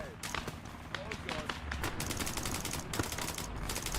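Rapid video game gunfire, dense bursts of sharp cracks and automatic fire crackling almost nonstop, heard at moderate volume with people talking over it.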